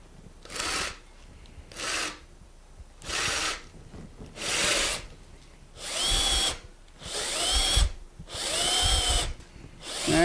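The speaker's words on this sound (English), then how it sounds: "I'm drilling into the wood pretty well here" A power drill bores into a wood log being turned into a woodturning blank, grinding in seven rasping bursts of a second or so each, growing louder and longer as it cuts deeper.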